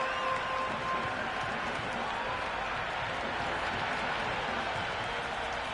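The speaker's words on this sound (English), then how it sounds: "The crowd are really getting quite raucous." A raucous cricket crowd in the video game Cricket 26 roars as a constant loud, dense wall of noise, with a commentator talking over it.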